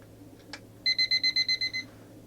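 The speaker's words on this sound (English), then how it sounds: "typical alarm, but not very loud" A vintage 1980s Spartus travel alarm clock rings with a quick run of about eight evenly spaced electronic beeps, moderately quiet and close, preceded by a faint click as the alarm hand is set.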